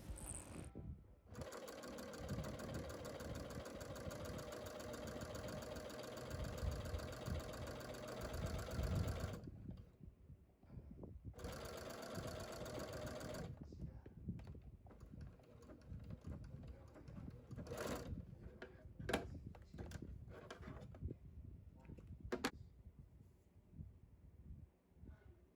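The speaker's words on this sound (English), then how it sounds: "I also needed to sew that hanger piece down, and so I'm doing that very quickly here now." A sewing machine stitches a hanger piece onto a quilted Christmas stocking, running in fast steady bursts close by with short pauses between them, then giving way to quieter fabric handling and clicks.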